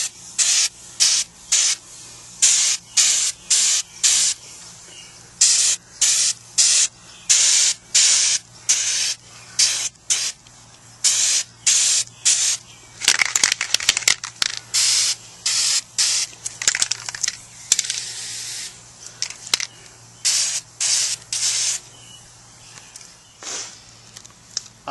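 Repeated short bursts of spray paint from an aerosol can coating a rusty Jeep Wrangler grill cover in black, loud and close, with steady rhythmic hissing pulses and a few longer sprays, no talking.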